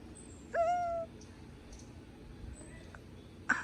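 An owl calling in Panacam National Park, Honduras: one clear, sustained hooting note near the start, then faint clicks and scattered bird sounds over quiet forest ambience.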